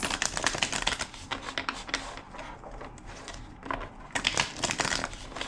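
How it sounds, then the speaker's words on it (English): Deck of tarot cards being shuffled by hand, crisp riffling and flicking bursts close up, loud near the start and again at the end with a quieter stretch between. "2 more shuffles."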